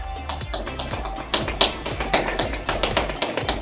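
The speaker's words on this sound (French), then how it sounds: "Je piétine, tipping." Feet stepping rapidly in place during a core-strength exercise session, making a quick, even run of light taps and thuds, fairly close and loud, with no speech over it.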